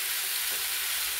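Spinach wilting and simmering in its own released water in a pan for a Bengali palong shaker ghonto: a soft, steady sizzling hiss that holds evenly throughout, with no voices.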